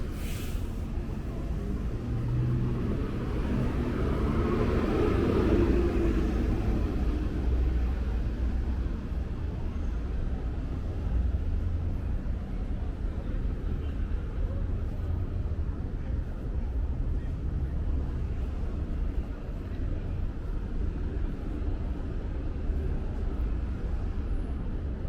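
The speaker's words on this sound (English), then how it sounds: "It is very congested with traffic" Road traffic on Queens Plaza North in Astoria on a drizzly day: a continuous low roar of congested vehicles with passing engine swells, a heavy vehicle building up early, steady and fairly near.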